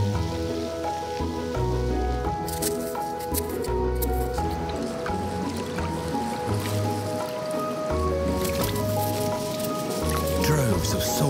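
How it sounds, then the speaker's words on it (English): Thousands of sand bubbler soldier crabs emerge from tidal sand at low tide, giving a dense, continuous wet crackle of tiny pops and squishes with layered tones throughout. "Droves of soldier crabs come out at low tide."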